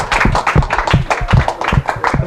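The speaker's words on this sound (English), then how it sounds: "Big round of applause for Nona and Scott." Workshop audience at a Jewish Family Services of Delaware event claps in a loud, close, steady rhythm, with individual hand claps distinct rather than blurred into a wash.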